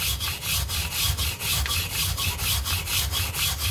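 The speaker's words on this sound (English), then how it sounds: "I'll take this regular old steel brush when you got these loaded with all your shells here." Steel wire brush scrubbing rust off metal shells, a rapid rhythmic back-and-forth rasping of about six strokes per second, close and steady throughout.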